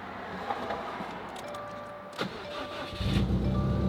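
A Subaru WRX STI on a base map cranks and fires, its engine catching after about three seconds into a loud, rough, lumpy idle close by.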